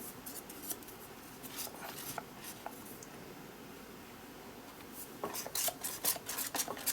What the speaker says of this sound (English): I can use a little bit of spare card just to smooth it a little bit